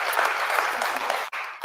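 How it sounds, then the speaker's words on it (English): Live audience applauding service veterans, a steady burst of clapping with a few voices under it, cutting off briefly near the end. "Give them a round of applause."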